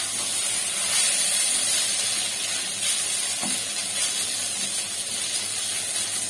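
Egg chow mein with soy sauce is stirred as it fries in a pan at home, giving a steady, close broadband sizzle and hiss that holds throughout without any talk.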